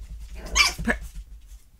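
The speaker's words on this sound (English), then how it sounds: "they may be growling" Sibling puppies play fighting give a short burst of growling and barking, two close, loud yaps about a quarter-second apart, then quiet.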